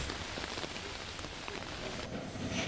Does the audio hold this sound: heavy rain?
yes